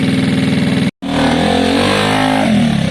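A Gilera DNA scooter engine on a test ride after carburettor jetting and new fuel lines, a loud, close, buzzing drone that breaks for a split second, then resumes and rises in pitch as it accelerates.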